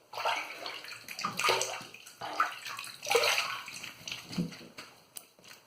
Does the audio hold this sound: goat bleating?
no